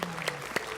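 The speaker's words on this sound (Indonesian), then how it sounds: "Siap, siap, tepuk tangan siap." A TV studio audience gives a short burst of applause, a few loose handclaps close by, fairly faint and lasting under a second.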